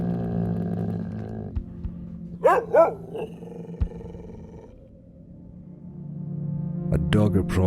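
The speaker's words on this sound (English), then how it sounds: "A dog approached its master slowly." A dog in the video game Artania gives a few short barks and growling bursts over a low, steady game soundtrack, with quieter gaps between them and louder barking near the end.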